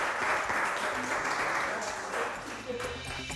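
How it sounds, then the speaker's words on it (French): Audience applause after a winner from Togo is named at a live French-language game show event, a dense steady wash of many hands clapping throughout, with a voice speaking briefly over it near the end. "Le Togo, merci d'applaudir pour lui"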